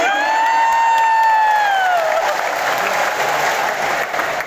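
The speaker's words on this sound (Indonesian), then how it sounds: "Maksud apa saudara tepuk tangan?" A church congregation bursts into loud applause during a sermon, dense clapping mixed with cheering and a high sustained shout or whoop at the start, filling the space steadily throughout.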